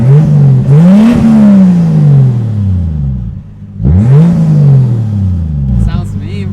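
The exhaust of a Toyota Supra barks through two sharp, loud revs, each rising quickly and then falling away, with an idle rumble between them and close by.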